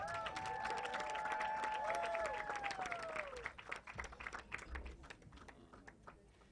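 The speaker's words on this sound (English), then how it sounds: "Big round of applause for Nina." An audience at an event applauds a guest speaker: gliding tones fade out over the first few seconds, then scattered, fairly faint hand claps follow.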